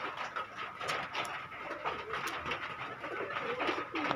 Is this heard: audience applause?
no